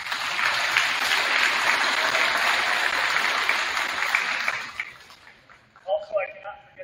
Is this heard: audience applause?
yes